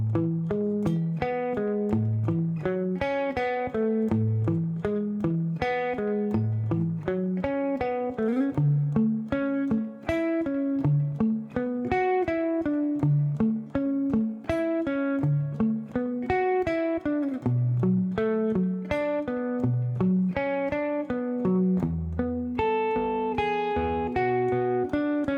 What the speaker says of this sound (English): And that's it for the verse riff in total, so it will sound like this in total.